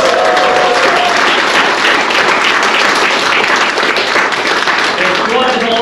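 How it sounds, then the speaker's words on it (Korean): Loud, sustained applause from a large crowd at a policy agreement signing ceremony, steady clapping filling the whole stretch with a few voices faintly mixed in. "큰 박수 부탁드리겠습니다"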